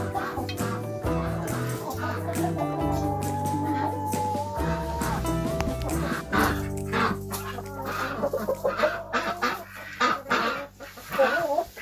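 Rooster and hens in a coop on a Finnish homestead in January, with repeated close clucking and squawks, some sustained calls, and brief sounds of movement throughout.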